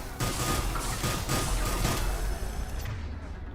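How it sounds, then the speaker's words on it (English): Rapid enemy gunfire in the Mass Effect Legendary Edition, dense bursts of shots crackling loudly and close for a few seconds before trailing off slightly. "Stop shooting at me."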